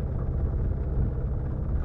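Boat motor running at sea after hours of cruising on the same course, a steady low droning rumble, loud and close, with no talking.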